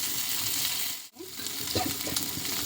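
Onions and tomato fry in a pan with a close, dense sizzle, briefly cut by a short gap as the lid or pan shifts, then resuming with a few soft stirring scrapes.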